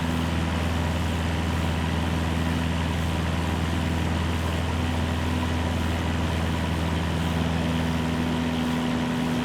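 An aircraft engine in Microsoft Flight Simulator 2024 drones on in a steady, loud, unbroken hum with a low tonal buzz that holds constant throughout, no voices over it.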